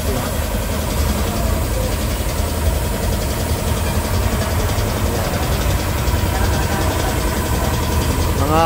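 Small gasoline tamping rammer engine running at a workshop, a loud steady chugging drone with rapid rhythmic knocking throughout, continuous and close.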